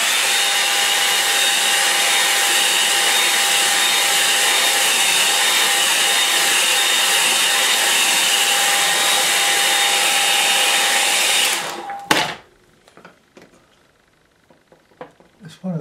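A hair dryer drying a wet landscape painting of Cornish headlands roars loud and steady for about eleven seconds, then switches off with a clatter, leaving quiet handling noises.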